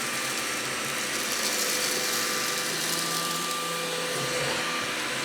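A LEVOIT cordless vacuum cleaner runs steadily and close by, its strong, even whir holding without a break from start to finish.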